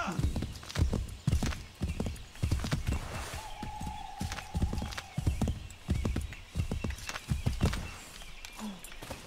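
A horse in Assassin's Creed III gallops with a rapid, rhythmic clip-clop of hooves, and a drawn-out whinny rises partway through. The hoofbeats are fairly close but moderate in volume, with a little talk near the end.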